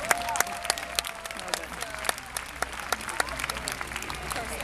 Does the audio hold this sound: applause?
yes